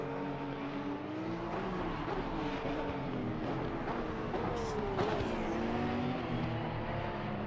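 A Porsche Cup car in a console racing game drifts around the circuit, its engine droning steadily and loud, with pitch sweeping up and down through gear shifts, alone with no talking.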